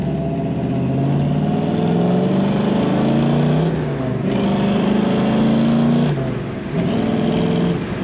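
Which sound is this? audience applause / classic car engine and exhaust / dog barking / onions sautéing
classic car engine and exhaust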